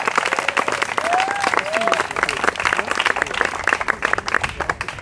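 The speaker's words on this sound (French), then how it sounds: "Je voudrais un grand applaudissement à Agnès Vegas." A crowd applauding the referee at the close of an open tournament, dense steady clapping from many hands throughout, with a whistle and cheering voices rising above it near the start.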